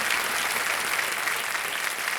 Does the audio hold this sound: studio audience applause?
yes